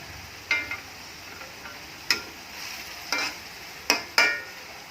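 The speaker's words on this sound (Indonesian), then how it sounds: "Aduk terus." A spoon stirs mushrooms in a pan over a faint, steady sizzle as they release their water, with about six sharp scraping knocks spaced irregularly, close and clear.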